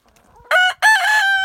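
A Splash Americana rooster crows loudly and close in two bursts, the second a long sustained call, with no speech over it.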